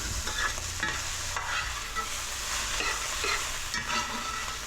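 Fried rice stir-frying in a pan, a steady loud hiss of frying with repeated scraping strokes of a spatula roughly every second, no voices.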